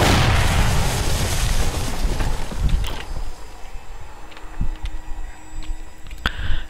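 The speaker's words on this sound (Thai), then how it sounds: "TNT นะครับคือระเบิดที่ แรงที่สุดเท่าที่ผมรู้นะครับ" A TNT explosive trap detonates in the 7 Days to Die video game, a loud booming blast that fades into scattered debris pops and clatters.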